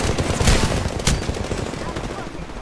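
Dense, sustained automatic gunfire rattles continuously in an Apex Legends match, with overlapping bursts and loud sharp cracks, while game voice lines sound over the combat.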